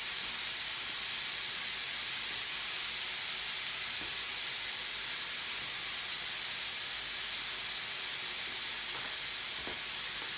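Mince browns in a pan with a steady, bright, hissing sizzle throughout, with a few faint clicks near the end.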